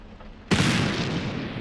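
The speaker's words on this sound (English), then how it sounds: "Might have been a firework." A single sharp firework bang in the Black Mirror III game, a sudden loud blast after a quiet moment, followed by a long, noisy crackling rumble that fades slowly.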